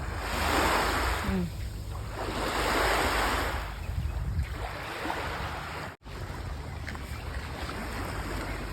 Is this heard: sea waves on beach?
yes